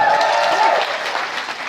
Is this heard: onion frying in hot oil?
no